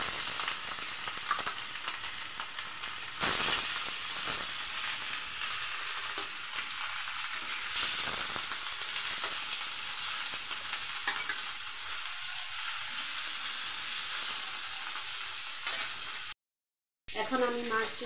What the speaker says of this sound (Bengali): তেলটা একটু গরম হয়ে গেলে আমি মাছগুলো একে একে বিছিয়ে